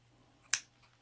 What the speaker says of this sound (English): So sort of just use nice sharp scissors